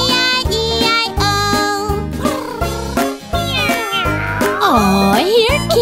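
A singer imitates a cat with repeated melodic meows in a children's farm song, backed by a loud, bouncy musical accompaniment throughout.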